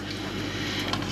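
Bacon fat rendering down in a pan while an egg and bacon pie is made, giving a steady, low broadband sizzle and hiss in the background with no talk.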